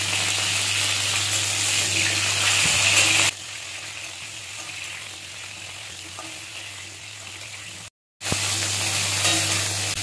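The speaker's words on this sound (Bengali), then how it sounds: "তেলটা গরম হয়ে গেছে, ফুলকপিগুলি লবণ দিয়ে ভেজে নেবো হালকা" Cauliflower fries in hot oil with salt in a loud, continuous sizzle that drops to a quieter bubbling fry partway through, stops briefly, then resumes, with no one speaking.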